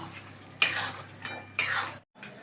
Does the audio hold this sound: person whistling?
no